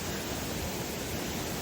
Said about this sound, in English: Look at that waterfall, it's absolutely incredible.